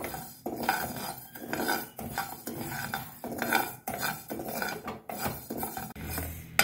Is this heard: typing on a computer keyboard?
no